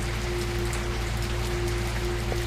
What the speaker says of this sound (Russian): дождь когда идет, ФПС сильно падает